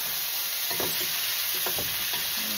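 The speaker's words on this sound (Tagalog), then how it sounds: "Ayan, gisa lang tayo nito." Ingredients for sweet and sour meatballs sautéing in oil, a continuous close sizzle with a few soft stirring scrapes.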